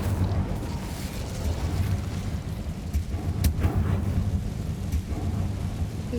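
Fire spell cast in Hogwarts Legacy, a deep rumbling roar of flames with crackling bursts, sustained and loud, no talk.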